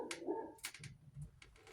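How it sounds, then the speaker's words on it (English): Faint, brief dog sounds, a couple of short barks or whimpers, heard in the background of a room while a dryer is being taken apart. "don't mind the dog in the background"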